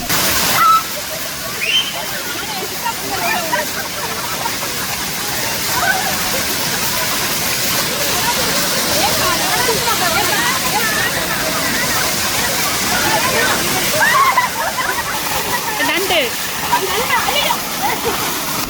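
Aintharuvi, the Five Falls, pours in a steady roaring rush of falling water with splashing, a constant broadband wash heard alone for a long stretch.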